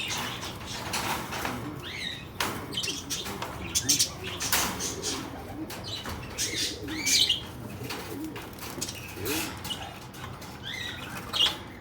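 Pet parakeets or lovebirds chirp and flutter while being moved between cages with a bird catcher, scattered high chirps and wing flaps over rustling cage noise at close range.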